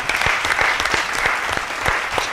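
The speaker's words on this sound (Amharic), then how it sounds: "አጨብጭቡለት።" Audience applause in a studio during an Ethiopian television quiz segment, a dense burst of many hands clapping close and steady for the whole stretch, with no voices over it.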